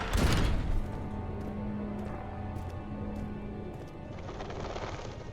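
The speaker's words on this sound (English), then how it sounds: "Bloody pigeons." Pigeons coo inside a dark castle in the horror game Amnesia: The Dark Descent, soft low steady coos drifting at a distance after an opening thud, with faint intermittent ticks scattered through the quiet background.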